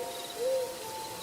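A single soft, low hoot from an eagle owl rises briefly, close and clear against a faint steady background hiss.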